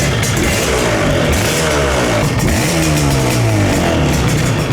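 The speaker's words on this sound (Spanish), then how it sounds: "es una moto 2 tiempos y bicilíndrica" A Yamaha RD 350 motorcycle engine revs up and down loudly and close by, with the raspy, crackling buzz typical of a two-stroke twin.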